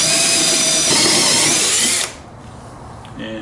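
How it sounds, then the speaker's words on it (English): A power drill whirs loudly in reverse on a 1949 Studebaker 2R5 T12 steering column for about two seconds, then cuts off, leaving quiet room noise and a faint mechanical clack. "Make sure my drill is in reverse."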